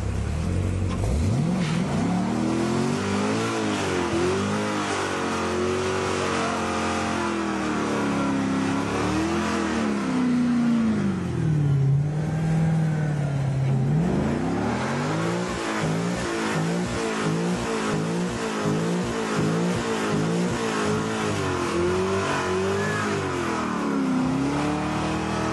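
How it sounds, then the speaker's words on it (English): A car engine revs hard and repeatedly while its clutch is being burned out instead of the tires, loud, close and rising and falling in pitch with a steady rough drone. "This guy burns out his clutch instead of his tires."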